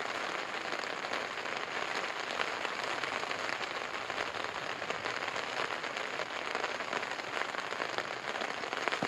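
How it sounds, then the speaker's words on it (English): Rain drums on a tent during spring kayak camping in Algonquin Park, a dense, steady patter of close drops crackling evenly across the fabric with no voices. "Sleeping in a tent when it's raining is a beautiful thing"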